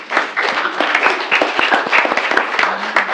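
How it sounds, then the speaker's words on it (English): At a township committee meeting, the room applauds the parents with a burst of crisp, close individual claps that rise quickly and stay lively, with sharp distinct hand strikes heard in the mix. "just stand up and give your parents a round of applause"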